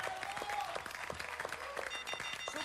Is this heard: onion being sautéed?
no